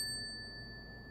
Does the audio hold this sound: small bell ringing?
yes